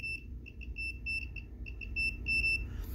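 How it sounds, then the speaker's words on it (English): A cheap multimeter in continuity mode beeping while probing a capacitor on an Asus Strix GTX 1080 Ti graphics card, high thin tones broken into short irregular bursts over low room hum, close and clear. "The reason why it's beeping intermittently is because my multimeter is kind of crap."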